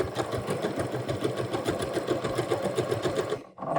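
A sewing machine stitches a pleated skirt waistband with an edge guide, a fast, even mechanical chatter of needle strokes that runs close and steady before stopping abruptly near the end.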